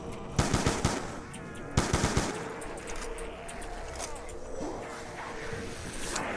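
Bursts of rapid gunfire from a weapon in Black Ops 2 Zombies, two loud volleys near the start followed by a busier game soundscape with scattered later shots.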